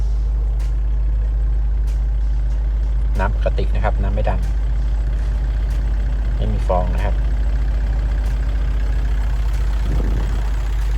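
A used Kubota L4708 tractor's engine idles with a steady, even low hum close by, while someone talks over it.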